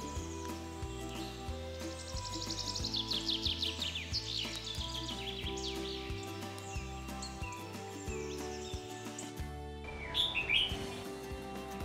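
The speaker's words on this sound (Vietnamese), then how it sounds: "những góc nhỏ lắm lót tiếng chim hót như thế này" Songbirds chirp and trill at a bird-keeping corner in Saigon, bright overlapping calls against steady background music with a rhythmic low beat, moderately loud throughout.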